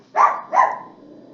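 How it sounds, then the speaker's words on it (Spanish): A neighbor's dog gives two sharp barks in quick succession, close and loud, followed by a faint fading tail. "Chuchas ladrando."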